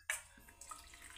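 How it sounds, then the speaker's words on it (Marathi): Water is poured from a glass into a besan kadhi mixture made with flour and kokum (aamsul) water, starting with a sharp splash followed by a brief, soft trickle, faint and close. "आता याच्यामध्ये 1 ग्लास पाणी टाकून घ्यायचं आहे"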